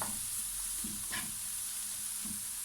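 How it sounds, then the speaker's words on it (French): Onions fry with thyme and bay leaf in a pan for a simple pizza, a steady close sizzle with occasional stirring scrapes and no talk. "On a fait revenir donc les oignons avec le thym et le laurier."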